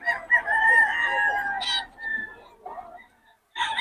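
Chickens at a weekly market in Bocaue: a rooster crows loudly and nearby, then short clucks follow, with people talking in the background.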